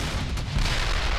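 An artillery cannon booms in Brothers in Arms: Hell's Highway, a single heavy loud blast that rumbles briefly and fades into the battlefield din.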